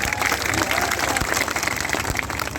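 Audience at a political rally clapping, a dense, steady burst of applause from a crowd, loud and sustained throughout.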